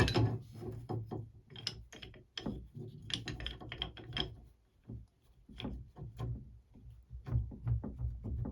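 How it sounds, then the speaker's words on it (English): A pipe wrench works on an old, leaking Symmons Temptrol shower valve, giving repeated ratcheting clicks and metallic knocks with scraping in uneven bursts, close up and without talk. "I got this pipe wrench. I'm going to try that."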